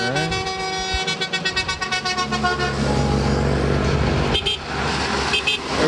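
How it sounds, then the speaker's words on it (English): Several car horns honk on a busy road with motorcycles and water buffalo about, a rapid rhythmic toot series giving way to long overlapping blasts over steady traffic rumble. "Everybody's honking."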